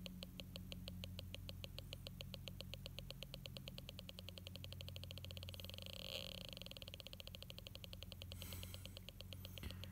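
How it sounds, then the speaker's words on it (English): A small Snap Circuits speaker ticks in a fast, even stream of faint clicks over a low electrical hum, keeping a steady rhythm throughout. "the speaker clicks."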